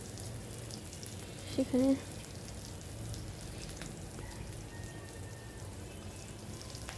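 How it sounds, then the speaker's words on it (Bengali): Onions and green chilies fry in the oil left over from cooking eggs, a steady low sizzle throughout with a brief spoken word early on. "একই তেলে পেঁয়াজ এবং কাঁচামরিচ দিয়ে ভেজে নেব"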